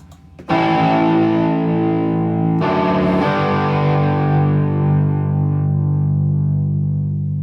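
A loud, sustained keyboard chord through a keyboard amp's built-in distortion channel rings out with heavy overdrive, shifting once partway through, then slowly decays with a gritty buzzing tone.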